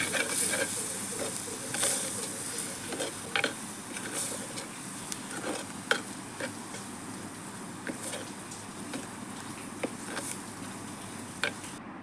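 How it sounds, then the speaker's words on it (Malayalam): Kashmiri chili powder and ground spice powders sautéing in a pan for a toddy-shop style fish curry, a soft steady hiss with scattered light ticks and scrapes of stirring, fairly quiet and without talk. "ഇനി പൊടികളുടെ പച്ചമണം മാറുന്നവരെ ഒന്ന് വഴറ്റുക."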